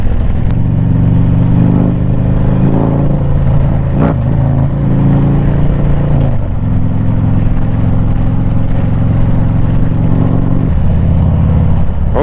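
A Harley-Davidson Street Glide performance bagger pulls hard in fourth gear, its loud engine droning with a steady rumble and rising pitch shifts, close and continuous throughout.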